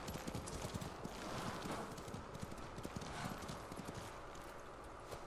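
Horse hooves clip-clop steadily at a riding pace in Ghost of Tsushima, a continuous rhythmic patter of hoofbeats, close and fairly loud over a rushing outdoor ambience.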